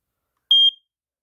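An SA303 smoke alarm gives one short, piercing high-pitched beep that stands out sharply against silence before cutting off.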